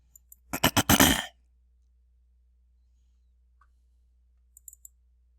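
A computer mouse clicks in a quick burst of several crisp, close clicks, then a long silence, then a few faint clicks at the end.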